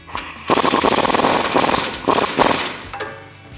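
An impact gun hammers at suspension bolts on a 2019-2023 RAM 1500 during a Rough Country 3.5-inch lift install, loud rapid rattling bursts in several pulses close to the mic, then quickly trailing off.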